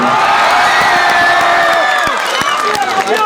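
A large crowd at a college ground cheers and applauds in a dense, loud roar with whoops and scattered claps, steady throughout the short burst.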